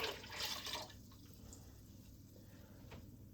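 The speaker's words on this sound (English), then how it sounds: "we're going to add 8 cups of water to it. Just regular old tap water. Dump that right on in." Plain tap water being dumped into a container to brine chicken, with a louder splashing pour at first that settles into a quieter trickle and drips.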